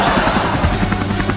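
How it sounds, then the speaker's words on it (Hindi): Large helicopter flying in a Hindi comedy cartoon: a loud, steady roaring drone with a faint rhythmic chop that fills the whole moment. "हम इतने बड़े हेलीकॉप्टर से उड़ रहे हैं"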